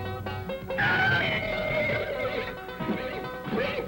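A horse whinnies loudly and at length, its shrill call rising and wavering, followed by a second shorter neigh near the end.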